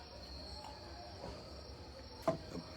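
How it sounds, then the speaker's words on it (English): Faint crickets chirp steadily in the background of a quiet night, with a couple of soft knocks and rustles close by. "So we got crickets."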